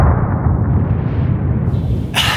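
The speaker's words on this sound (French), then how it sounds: "L'explosion d'un volcan sous-marin engloutit l'île" An underwater volcano explosion sound effect: a deep, rolling rumble that holds steady and heavy, with a brief, brighter crackling burst near the end.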